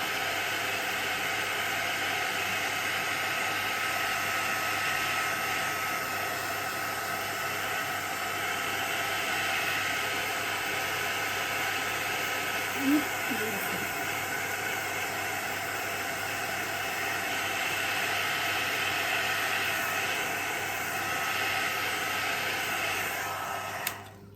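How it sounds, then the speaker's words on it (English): Heat gun blowing a constant loud hiss over plastic during alcohol ink stamping and embossing, steady and unbroken for the whole stretch with a small knock partway through, shutting off at the end. "keep that gun moving, that heat gun moving all the time, because you are working with a plastic"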